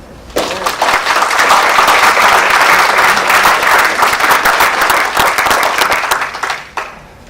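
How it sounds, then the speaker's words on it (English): An audience at a debate forum final applauds the judges, a dense, loud burst of clapping that holds steady for several seconds and then fades out. "Please a round of applause for our judges."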